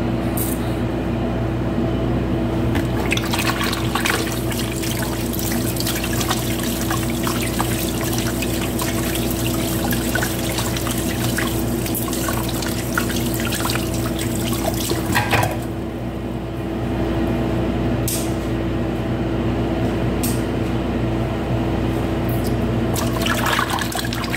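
Kitchen tap water runs steadily and fairly loudly while raw chicken is being cleaned, a continuous rushing splash over a low steady hum with no pauses.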